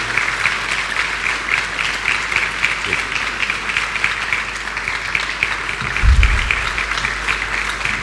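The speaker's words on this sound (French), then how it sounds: "Tant qu'il n'est pas assis, on n'arrête pas d'acclamer." An audience applauds steadily and loudly at a masterclass event in Dakar, continuous clapping through the whole stretch with a brief thump partway in.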